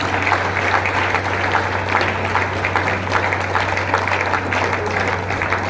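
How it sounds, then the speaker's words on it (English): A seated audience at a literary event applauds an author, moderately dense clapping over a steady low hum from the hall's sound system, continuing evenly throughout. "I expect the round of applause, ladies and gentlemen."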